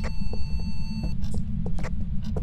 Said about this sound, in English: I was hearing the heartbeat.